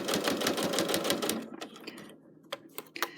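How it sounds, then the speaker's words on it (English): A sewing machine stitches down a zippy pouch at a rapid, even clatter of close stitches for about a second and a half, then stops, followed by a few scattered clicks and handling taps. "So we're just going to stitch it down."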